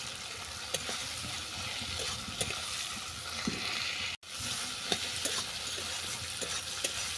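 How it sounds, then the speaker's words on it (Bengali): Chopped onion frying lightly in a pan for a semolina and vegetable umma, a steady broadband sizzle throughout with occasional light clicks of stirring and a brief dropout near the end, no talking. "এরপর দেবো পেঁয়াজ কুচি পেঁয়াজটা আমি বেশি ভাজবো না"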